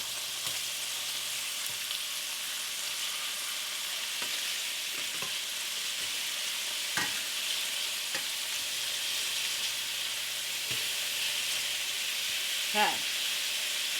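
Chicken pieces frying in a pan, a steady soft sizzle and crackle running throughout with occasional small pops and scrapes, no talking.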